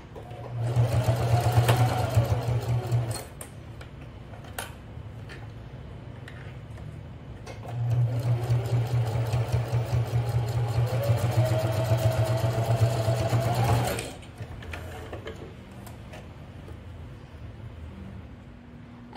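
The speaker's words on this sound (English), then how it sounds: "now we're going to sew the other corner" A sewing machine stitching the corners of a fabric bag in two runs of rapid, steady mechanical whirring, each a few seconds long, separated by quieter pauses with small handling clicks, close and clear.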